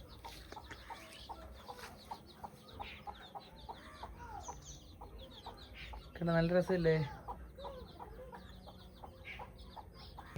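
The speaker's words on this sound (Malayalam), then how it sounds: "നിങ്ങൾ കോഴിക്കുഞ്ഞിനെ കണ്ടേ? ആയിട്ട് നടക്കുന്ന കോഴിക്കുഞ്ഞുങ്ങൾ." Chicks and hens cluck and peep around a yard, a string of short calls close by with one louder burst of clucking in the middle, while a person talks over them.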